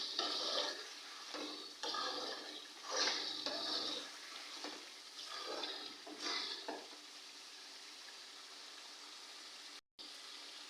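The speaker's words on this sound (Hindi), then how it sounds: "दो मिनट मसालों को रोस्ट करने के बाद हम इसमें 150 ग्राम दही शामिल कर देते हैं" Powdered spices roasting in a pan with yogurt being added, a close, steady sizzle broken by repeated scraping stir strokes, fading briefly near the end.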